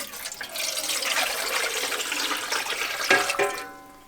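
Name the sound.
water poured into a pressure canner with jars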